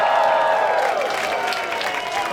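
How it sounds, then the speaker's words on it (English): An audience at a comedy show applauds and cheers warmly, a dense even clatter of many hands that stays loud and then eases slightly toward the end. "Big round of applause for both of them."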